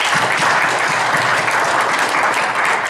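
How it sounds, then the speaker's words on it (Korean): An audience at a platform launch event gives dense, continuous applause that stays loud and even from start to finish. "박수 부탁드리겠습니다."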